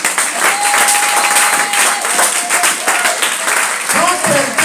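A church congregation claps and cheers for Jesus with sustained loud applause and crowd noise, while a voice talks over it and sings out near the end.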